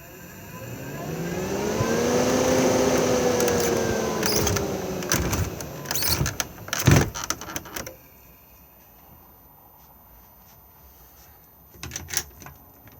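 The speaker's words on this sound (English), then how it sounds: "the blades will stop and spin in the opposite direction and then draw in air for cooling" Variable speed extraction fan in a Swift Challenger 640 motorhome: a whirring hum rises and then falls as the blades slow, followed by clicks and clatter as it stops and reverses, then near quiet with a few clicks.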